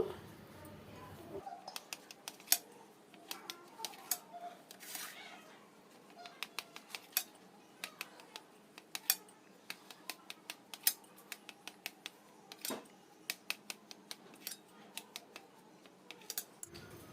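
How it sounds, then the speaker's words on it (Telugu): A knife cuts through coconut cake close by, with a long series of sharp, irregular clicks and taps as the blade strikes the tray beneath. "ఇప్పుడు ఈ కేక్ని పీసెస్లా కట్ చేసుకుందాము"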